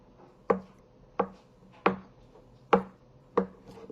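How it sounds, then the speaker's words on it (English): A knife chops potatoes on a cutting board for potato salad in five sharp, evenly spaced strikes about a second apart, close and clear with quiet gaps between them and no talking. "You just really want to cut it all up, more than diced."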